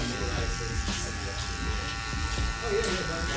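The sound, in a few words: hair clippers cutting hair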